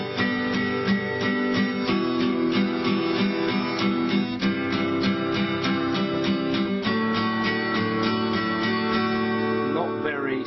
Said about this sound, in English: And if we were to strum 8th notes,